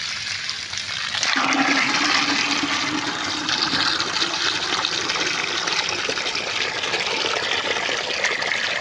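Water gushes into a water cooler, a strong continuous rushing pour that begins abruptly and keeps flowing steadily and close by.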